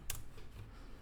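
Brief burst of keystrokes on a computer keyboard while a configuration file name is entered, a quick cluster of clicks near the start and a few softer taps after, close and fairly quiet.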